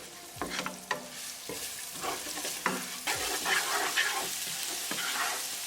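Garlic, ginger and cumin seeds frying in a pan for taro root masala, a soft steady sizzle with a few sharp scrapes and knocks of a spoon as the mix is stirred, close and clear.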